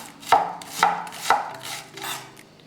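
A knife chops vegetables for a Mexican salad on a cutting board, giving four firm, evenly spaced thuds at close range, the last one softer, with no talk.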